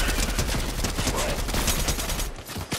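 Rapid, dense gunfire in a Fortnite-style battle-royale video game, a sustained fusillade of overlapping shots that is loud and continuous for nearly three seconds before briefly thinning out.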